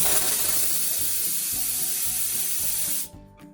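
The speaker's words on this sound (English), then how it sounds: "so we're just coming out with steam." A loud, steady hiss of escaping steam from a Karcher steam cleaner over a low mechanical hum, cutting off abruptly near the end.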